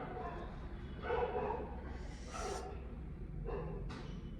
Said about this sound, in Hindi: पता नहीं क्यों भौंक रहे हैं कुत्ते